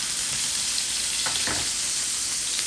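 A sirloin steak sizzles steadily in a hot pan just after being flipped, a continuous bright hiss with a couple of brief louder crackles, no talking.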